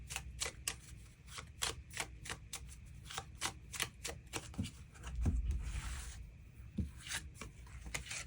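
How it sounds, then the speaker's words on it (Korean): Tarot cards being shuffled and drawn up close, a rapid series of crisp riffling flutters and slaps in an uneven rhythm with a brief soft rustle midway, no talk. "추가 카드 뽑아보도록 하겠습니다"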